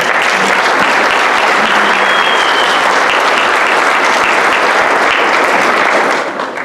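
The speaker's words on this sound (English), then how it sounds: "let's give these kids a round of applause one more time" A Pickens County 4-H Achievement Night audience applauds the 4-H kids with loud, dense clapping. It goes on steadily for several seconds with no voices over it, then starts to fade at the very end.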